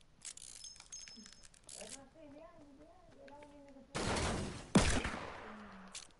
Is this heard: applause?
no